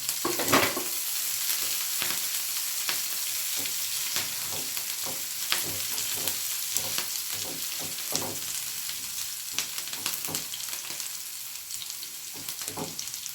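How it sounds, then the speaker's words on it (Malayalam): Ginger and green chilli frying in oil for mango pickle, a continuous sizzle with frequent scraping and clinking stirring strokes in an uneven rhythm, close and clear, no talking. "ഇനി അതിലേക്ക് ഇഞ്ചി, പച്ചമുളക് രണ്ടിന് പച്ചമണം പോണ വരെ ഫ്രൈ ആക്കണം."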